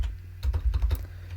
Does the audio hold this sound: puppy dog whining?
no